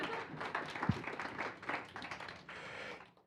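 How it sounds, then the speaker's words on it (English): Audience applause at a company all-hands meeting, a fairly quiet, sparse round of clapping that rises and fades in uneven bursts. "We'll give this an applause here."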